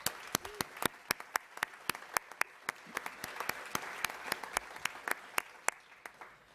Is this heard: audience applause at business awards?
yes